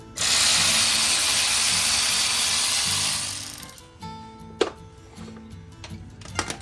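A ratchet works a T40 Torx bolt at the front brake of a 2015 Ford Explorer with a loud, steady, close whirring burst for about three seconds. It fades out, followed by a single sharp metallic click.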